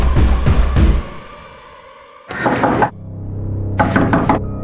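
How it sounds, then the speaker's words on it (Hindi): Knocking on a store room door in a home, two separate bursts of rapid, loud raps close by, with a brief lull between them and no other sound over the knocks. "स्टोर रूम का दरवाजा क्यों खटखटा रही है?"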